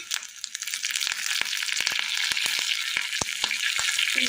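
Curry leaves and dried red chillies crackle and sizzle in hot oil, a dense hiss broken by sharp popping snaps that grow more frequent, with no talking.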